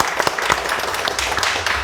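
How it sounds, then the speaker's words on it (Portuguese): A café audience at a talk-show event in a bookstore gives a brief burst of steady, dense applause from many hands, close and continuous for under two seconds. "Uma salva de palmas para Josimei Costa."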